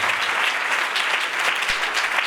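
Church congregation applauding loudly in thanks after a sermon, a dense, sustained burst of many hands clapping at close range throughout.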